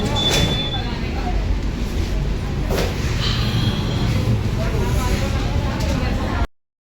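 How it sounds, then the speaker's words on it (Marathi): Riding inside an air-conditioned suburban train bound for Vasai: a continuous close rumble of the moving carriage with a few louder clatters, faint background voices, ending abruptly. "आता मी ट्रेनमध्ये आहे. एसीची गाडी बापरे घरात एवढं उशिरा निघाली."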